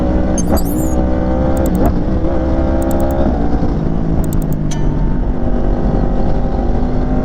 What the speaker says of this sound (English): I love this bike. I love the sounds it makes.